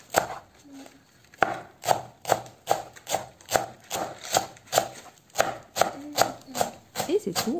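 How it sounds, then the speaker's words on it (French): A knife chops tomatoes into small cubes on a cutting board, a close, steady run of sharp, evenly spaced taps that speeds up toward the end. "Et 2 tomates que je vais couper en petits cubes"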